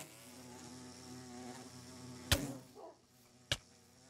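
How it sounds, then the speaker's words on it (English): Minecraft bees buzz in a steady, faint droning tone, followed by two sharp clicking hits from the game, with no talking. "Bees!"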